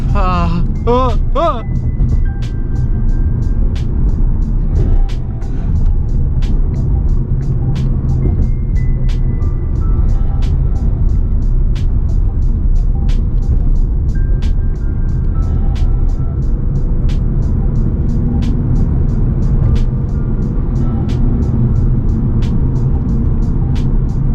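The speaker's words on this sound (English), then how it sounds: "Oh, I'm hitting traffic myself." Steady road traffic heard from inside a moving car stuck in congestion near Waco, with a continuous low engine and road rumble throughout and faint ticking clicks; voices talk briefly near the start.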